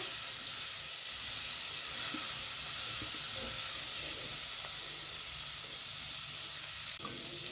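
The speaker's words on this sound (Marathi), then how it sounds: "ह्याला व्यवस्थित मिक्स करायचं" Fresh cashew nut curry, a dry onion-free and garlic-free dish, being stirred in a hot pan: a steady, close sizzle of frying with faint scraping of the spoon and occasional soft taps, no talking.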